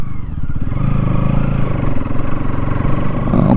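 A motorcycle climbs a hillside track toward a large lake, its engine a loud, close, steady rumbling drone with slight revving near the end.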